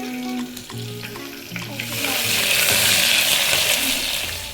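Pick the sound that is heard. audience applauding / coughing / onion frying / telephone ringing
onion frying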